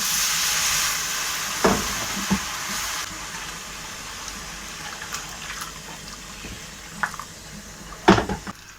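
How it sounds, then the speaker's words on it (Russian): Boiling water poured into a frying pan of seasoned meat sauce sets off a spitting, bubbling sizzle, with scattered clinks and bursts of splashing that grow louder near the end. "И заливаем кипятком"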